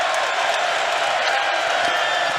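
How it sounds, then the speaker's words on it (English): Broad, steady crowd roar fills the Farrell Center during a Baylor versus Villanova college basketball game, a dense wash of voices and cheering without distinct claps, loud and continuous throughout. "How about this crowd here at the Farrell Center?"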